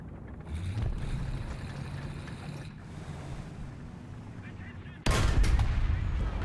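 Gunfire in War Thunder tank combat, a rumbling engine-and-battle bed with a sudden loud burst of shots near the end.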